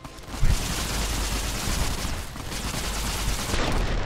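Plasma rifle in Fallout New Vegas firing bursts: a sharp onset followed by a rapid, sustained crackle of shots that swells again near the end, loud and close.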